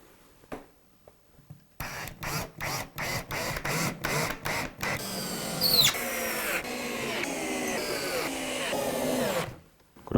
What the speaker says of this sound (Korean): 상판은 피스로 조립을 합니다